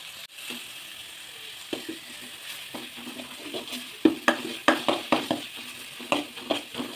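Curry leaves, mint and coriander sautéing in a pan for an egg curry, with a steady soft sizzle broken by repeated clinks and scrapes of a spoon stirring against the metal, close by.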